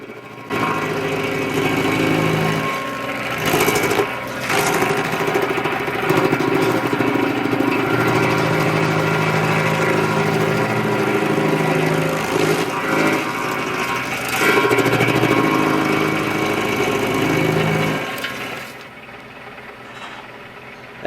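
A Baumalight 3P24 stump grinder on a tractor runs loud and steady as it chews through a stump toward a rock, its engine and cutting wheel droning with surging bursts before dropping away near the end.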